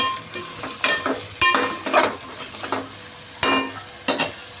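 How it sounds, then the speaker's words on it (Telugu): Vegetables frying in a pan for veg biryani, stirred with a utensil: close scraping strokes come in irregular bursts over a steady oily sizzle, with no talking. "ఇప్పుడు వెజిటేబుల్స్ మొత్తం వేసేద్దాం. వెజిటేబుల్స్ మొత్తం వేసేసిన మంచిగా కలబెట్టేద్దాం."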